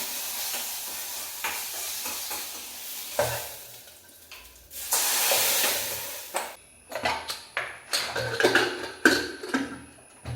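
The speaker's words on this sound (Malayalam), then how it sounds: "ഞാൻ തൽക്കാലികം തുള്ളി ഓയിൽ വെച്ചിട്ട് ഞാൻ അതിൽ കടുകൊക്കെ വറുത്തെടുക്കണം കേട്ടോ" Mustard seeds frying in a little oil in a pan: a steady sizzle, then a loud hissing surge, followed by a rapid run of sharp popping crackles from the seeds.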